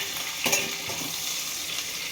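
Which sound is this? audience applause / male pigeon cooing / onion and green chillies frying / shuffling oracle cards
onion and green chillies frying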